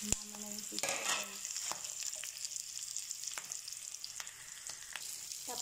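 Pork and chicken pieces sizzle steadily in a hot pan for humba, with a clatter of utensil strokes near the start and scattered scraping stirs over a constant frying hiss.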